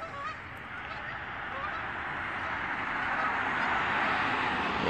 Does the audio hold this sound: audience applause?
no